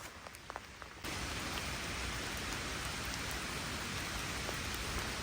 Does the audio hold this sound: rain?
yes